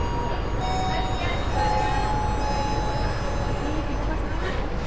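Kamandaka economy-class passenger train standing at Poncol station in Semarang, heard from inside the carriage: a steady low rumble and hum with faint high electrical tones, continuous and fairly loud throughout.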